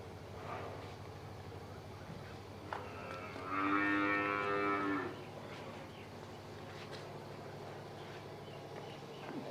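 Holstein Friesian cows on a farm, with one long, fairly close moo rising midway through a steady low farmyard hum and no voices.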